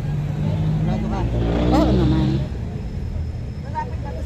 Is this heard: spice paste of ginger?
no